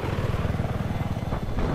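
Steady rhythmic chopping of helicopter rotors with engine rumble in the video game Battlefield 4, at moderate distance and fairly quiet, with no voices.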